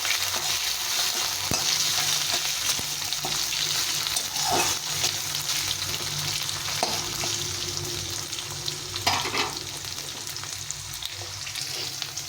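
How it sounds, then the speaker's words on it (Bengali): Steady sizzling and crackling of potatoes frying in a hot pan, continuous throughout with a few soft stirring scrapes. "তো আলুটাকে একটু ভেজে নেবো"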